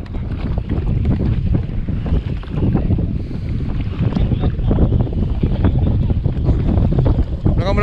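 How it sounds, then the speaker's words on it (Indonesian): Strong stormy wind buffeting a kayak out on the water behind an island, a loud steady roaring rush with gusty microphone noise throughout, no clear talk. "angin kuat ni"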